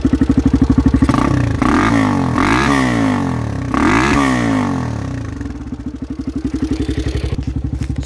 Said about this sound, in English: We'll give her a couple little revs here.